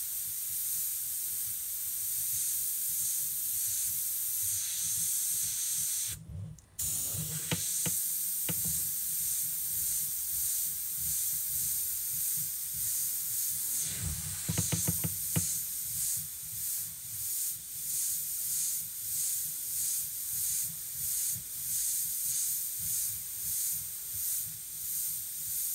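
A spray paint can hisses continuously and loudly up close while fine hair lines are airbrushed onto a tiger artwork, with a brief break and a few faint knocks partway through.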